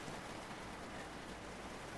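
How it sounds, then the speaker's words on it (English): Steady rain hisses evenly throughout in the video game American Truck Simulator, a dense wash of falling drops with no voices or other sounds. "And it's raining again."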